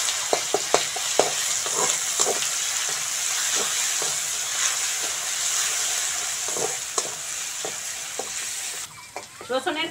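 Crushed garlic fries in hot oil in a home kitchen as a potato curry is started, a continuous close sizzle broken by frequent scraping and stirring clicks, with faint talk near the end.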